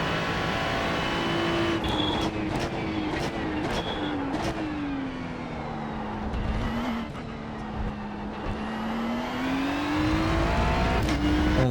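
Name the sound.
car at Monza shifting up into top gear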